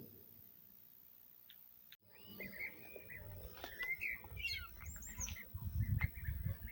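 Several birds call and squawk in short bursts in spring beside a mosque in Trabzon, over a low outdoor rumble, the calls starting after a quiet opening and coming from moderate distance.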